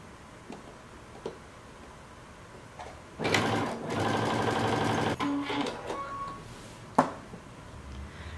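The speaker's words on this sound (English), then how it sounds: "you're going to do the same double fold and you're going to sew close to the edge" A sewing machine runs in one steady two-second burst, stitching a double-fold hem close to the edge of a mini dress, with quieter handling clicks before and after.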